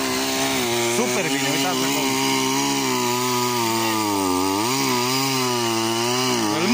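A chainsaw cuts through a wooden log or stump, its engine droning loudly and steadily with pitch dips as the chain bites into the wood, while people talk over it.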